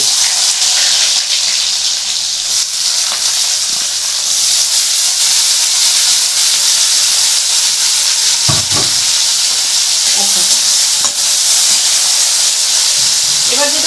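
Onions hit hot oil with crackling cumin seeds in a pan for Bengali mutton keema bharta, a loud steady sizzle and hiss running throughout, with a brief clatter of stirring near the middle.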